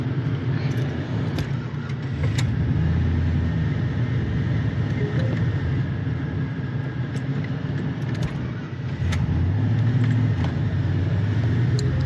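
A boxy Chevy car with an LS V8 swap drives along in gear, a steady close engine and road rumble with small rattles, continuous for the whole stretch and no talking.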